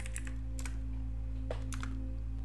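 A short burst of typing on a computer keyboard to enter a search, a few quick clusters of light key clicks close by over a steady low electrical hum.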